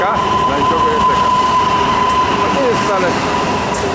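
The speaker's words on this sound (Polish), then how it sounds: "To nie jest Pendolino, tylko to jest szybka kolej miejska. Nowy akurat skład. Pojechał." A new fast urban rail train (szybka kolej miejska) runs through Gdańsk main station, a loud close steady rumble with a high whine and faint wheel squeal, someone talking over it.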